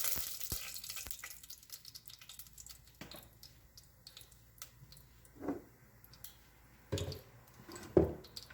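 Cinnamon and cardamom hit hot coconut oil in a pan while cooking mutton bone soup, giving a soft sizzle with scattered pops and small crackling bursts, fairly quiet and close, with no talking.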